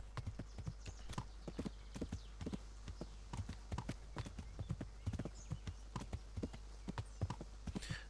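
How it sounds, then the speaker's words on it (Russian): A horse's hooves clip-clop at a steady riding gait in Kingdom Come: Deliverance, a quiet run of close, regular thuds that continues without pause. "Лошадочку зовем-ка. Верхом садимся."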